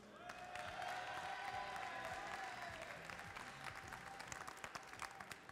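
A large audience applauds at a live cooking-competition event, a steady, sustained clatter of many hands heard from a slight distance that holds evenly throughout.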